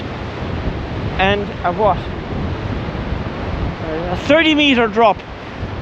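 Wind-blown ocean surf pounding boulders below the Ballycotton cliffs, a rough, steady roar with heavy wind buffeting the microphone, heard under a man's speech.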